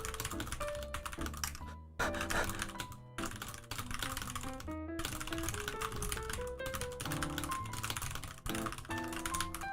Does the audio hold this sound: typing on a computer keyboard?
yes